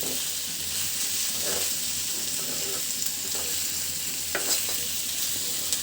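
Fish bharta is stirred in a frying pan over a constant loud sizzle, with scattered scrapes and taps of the spoon against the pan close by.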